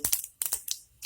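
Mustard seeds crackle and pop in hot oil in a wok, a few quick, close bursts of sharp spattering separated by brief quiet gaps.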